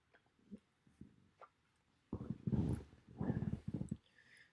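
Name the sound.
dog woken up, making noise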